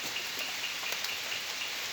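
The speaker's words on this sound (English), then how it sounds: "It's raining now. It's raining heavily." Heavy rain pours steadily in a dense, continuous hiss, with scattered drops pattering sharply on a nearby surface.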